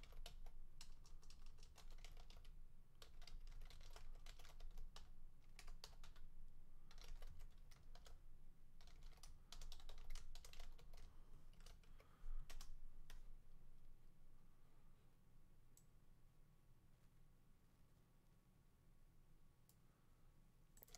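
Someone types a Microsoft password on a computer keyboard, with quiet, rapid clicking keystrokes in irregular bursts that thin out to sparse single taps near the end.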